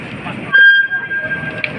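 An LRT Jabodebek light rail train arrives, a whirring motor hum with a thin high whine and a brief louder surge, under a busy background murmur.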